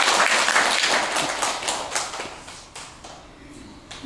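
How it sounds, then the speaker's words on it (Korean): Applause from a congregation at a Buddhist Dharma service, a steady crowd clapping that swells at the start and slowly tapers off over about four seconds. "박수 한번 치십시오."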